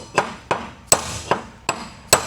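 A hammer repeatedly strikes a metal punch to drive out a trailer wheel bearing race, giving six sharp metallic knocks at a steady, roughly even pace, close and loud with ringing tails and no voices.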